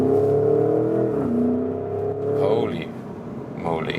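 A 2021 Porsche Cayenne GTS Coupé with the lightweight sports package in sports mode pulls hard out of a corner, its engine note climbing steadily, dipping briefly at a shift, then rising again, with a voice talking over it.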